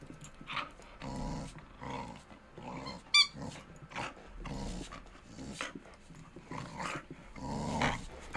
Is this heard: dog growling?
yes